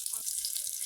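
Onions frying in hot oil for a fish curry with potato and eggplant, a short, close, steady sizzling hiss with faint low sounds beneath.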